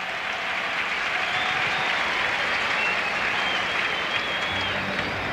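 Large crowd at an Astros baseball game in the Houston stadium cheering and applauding in a steady, loud, sustained roar with no break, from a clinching no-hitter by Mike Scott against the Giants.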